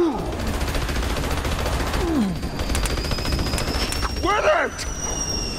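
Rapid, sustained gunfire from a freezing-bullet weapon in the shooter Battleborn, a continuous rattling stream under game effects and brief character voice calls.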